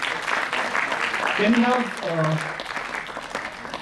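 Audience applause for a second-place prize winner at a student event, a moderate wash of clapping running under a voice speaking over it.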